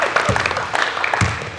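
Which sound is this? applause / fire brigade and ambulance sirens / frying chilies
applause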